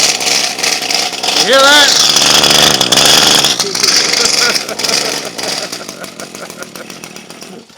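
A weed eater engine runs rough, clattering and sputtering loudly up close, rising to a harsh peak before easing to a ragged idle, with someone speaking briefly over it.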